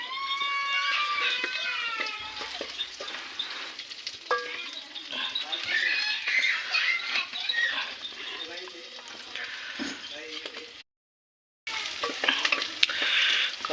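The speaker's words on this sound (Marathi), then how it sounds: "कांदा मस्तपैकी असा फ्राय करून घ्यायचा बिर्याणीसाठी" Onions for a paya biryani fry and are stirred in a pan, giving a steady crackling sizzle with clinks and scrapes, while a voice talks over parts of it.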